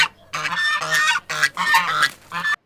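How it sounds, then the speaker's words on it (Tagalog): Several geese honk loudly and close by in a rapid series of harsh calls, with no talking. "Merong mga goose."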